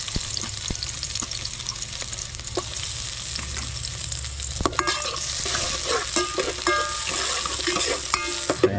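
Garlic and onion sauté in a pan, a steady sizzle with scraping stir strokes that grow louder and busier midway, close by, with no talking.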